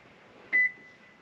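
A 2016 Toyota Prius hybrid responds to a key fob remote start with one short electronic beep, a brief tone over a quiet background.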